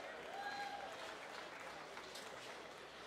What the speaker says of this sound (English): Let's give those exhibitors a nice round of applause